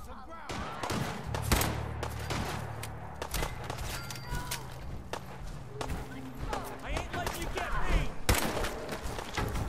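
Gunfire in the video game Fallout 4 in power armor rings out as repeated sharp, loud shots and bursts over footsteps and game noise, while a player talks over the action.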